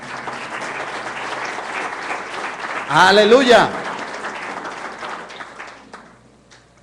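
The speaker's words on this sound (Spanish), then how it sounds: "¿Pueden darle un aplauso al Señor?" A church congregation applauds during a service. Steady clapping swells as a voice shouts over it, then the applause thins and fades out.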